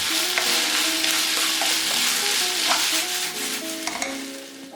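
Cabbage sizzling and crackling in a hot pan with oyster sauce and soy sauce while a utensil stirs and scrapes through it, loud and close, with no talking.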